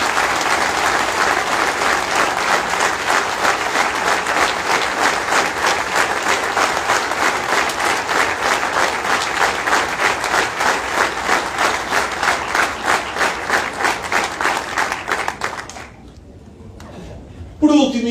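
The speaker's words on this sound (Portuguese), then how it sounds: "para eles também uma grande salva de palmas" Loud, sustained audience applause fills a hall at the 2025 presentation of an independent movement's candidates for the Vizela municipal council in Portugal, a dense wash of clapping that runs about fifteen seconds before cutting off abruptly.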